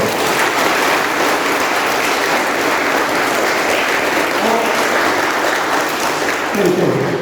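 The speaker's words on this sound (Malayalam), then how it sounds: "നോക്കിയാലോ, ഇന്ന് കൈയടിക്കോ നമുക്ക്?" A group of students at a government high school camp claps together in sustained, loud, dense applause that lasts throughout and swells slightly near the end.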